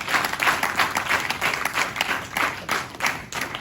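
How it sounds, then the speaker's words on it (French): Audience applause at a Toastmasters session, with clearly separated claps in an uneven, pulsing rhythm from a modest group close by, lively throughout. "applaudissons encore pour nous-mêmes"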